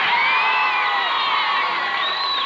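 A packed gym crowd at a high school girls' basketball game cheers and shrieks continuously, loud and sustained, with high children's and teen voices whooping throughout.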